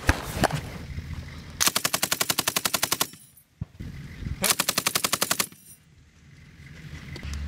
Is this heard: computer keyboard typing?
no